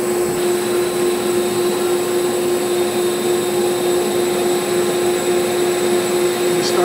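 A milling machine spindle whirring with a steady high tonal whine and broad mechanical hiss while cutting composite in a workshop, continuous and close, with no clear speech.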